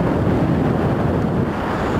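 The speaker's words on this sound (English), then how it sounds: "Very, very windy up here" Very strong wind on a hilltop above the Nene Valley near Sidegate Lane, Wellingborough, pounds the microphone in a dense, steady roar, loud and unbroken.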